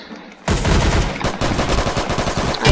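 Loud, dense automatic gunfire from the Roblox-style shooter game Arsenal, rapid bursts of shots crackling almost continuously with brief pauses between volleys, no talking.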